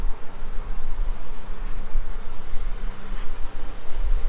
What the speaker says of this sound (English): a lot of the bees just flew out, as you can see